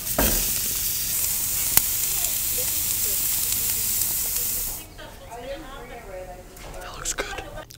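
Steaks sizzle and crackle steadily in a hot pan, a loud broadband hiss that runs for several seconds and then cuts off abruptly, leaving quieter room sound with faint voices talking.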